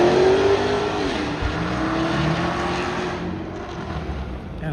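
At an outdoor car show, a loud car engine revs and roars nearby, surging and then settling into a sustained drone before fading slightly, with no one speaking.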